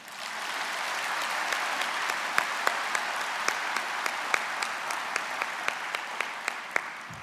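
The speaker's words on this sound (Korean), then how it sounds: "회원 여러분, 내빈들께 고마운 마음을 담아 다시 한번 환영의 박수를 부탁드립니다." Steady, sustained applause from a convention audience of architects welcoming guests at an opening ceremony, a dense wash of many hands clapping with a few sharper claps standing out, continuing evenly without speech.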